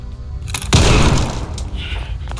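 A single loud, close gunshot to an enemy's head in the modded video game Fallout 4, one sharp booming blast with a decaying rumbling tail, followed by fainter impact sounds.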